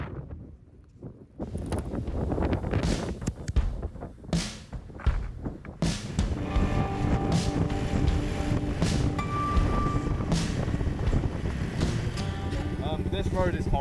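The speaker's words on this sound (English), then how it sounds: "the wind kept picking up with some strong gusts" Heavy wind buffets the microphone in a constant roar with louder gusts, while a person talks underneath, riding a motorcycle on a New Zealand trail.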